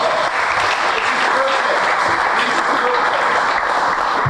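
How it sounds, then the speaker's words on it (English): Steady, dense applause from an audience at a baseball reunion gathering, an even and sustained roar of many hands clapping close by, with no talk over it. "Let's give him a nice round of applause."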